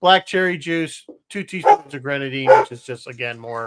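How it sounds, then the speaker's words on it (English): Dogs bark intermittently in the background of a room, partly masked by a person talking steadily over them. "sorry about the dogs"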